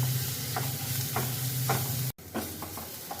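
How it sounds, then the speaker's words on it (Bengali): Garlic paste stir-fried with fried onions in hot oil sizzles under a steady hiss, with periodic scraping strokes of a spatula in an even rhythm. A brief drop in the sizzle is followed by continued stirring. "রসুনটাকেও ভালো করে একটুখানি নাড়াচাড়া করে কষিয়ে নেব"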